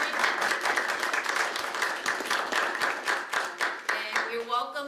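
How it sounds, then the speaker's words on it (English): Dense clapping from a room of attendees at a Village of Midlothian, Illinois board meeting, a lively round of applause that holds steady and starts to thin out toward the end. "Can we give them a round of applause?"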